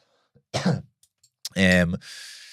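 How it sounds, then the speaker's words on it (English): A person coughs a couple of times, close and fairly loud, with brief quiet gaps and a short breathy rasp at the end. "I'm sorry, I'm coughing a bit here"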